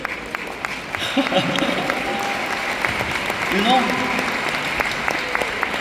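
A seminar audience at a Riway training event in Budapest claps in a brief burst across the room, with a voice speaking over it.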